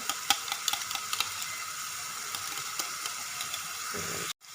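Yogurt being beaten in a bowl for matha aloo, a steady whisking scrape with scattered sharp clicks of the utensil against the bowl, close and fairly loud, cutting off abruptly near the end.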